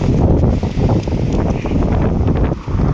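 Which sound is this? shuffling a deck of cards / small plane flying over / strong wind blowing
strong wind blowing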